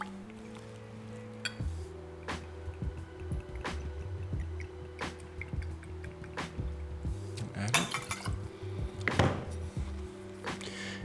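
Gin being measured and poured for a gin and tonic, with light glass clinks, taps and a brief liquid pour among handling noises, while a person talks over parts of it.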